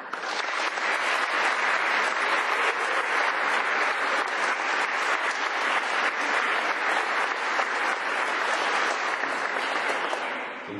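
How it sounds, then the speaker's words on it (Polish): Sustained, dense applause from a large crowd honoring graduating students at a high school leaving ceremony, steady and loud for about ten seconds with no speech over it. "poproszę teraz wielkie brawa dla nas wszystkich za to, że ukończyliśmy tą szkołę"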